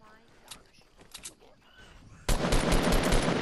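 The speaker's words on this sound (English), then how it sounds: "Someone's shooting at us." Rapid automatic gunfire in a 50v50 sniping match of a shooter video game, loud and dense. It bursts in suddenly after a quieter stretch of faint voices and sustains continuously to the end.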